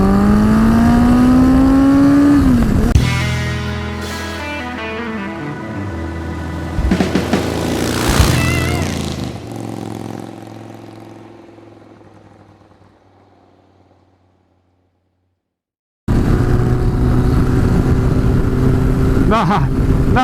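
A Yamaha motorcycle pulls hard in top gear, its engine note rising loud and close before easing off into a long fade to near silence, then a loud engine sound cuts back in abruptly.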